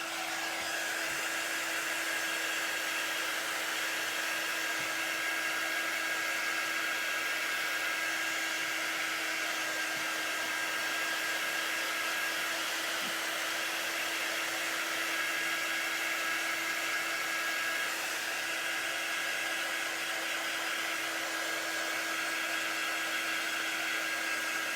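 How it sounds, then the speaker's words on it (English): A handheld hair dryer blows steadily for the whole span with an even, close whirring hiss. It is drying chalk paste on a craft piece, with no talk over it. "So let me dry this really quick."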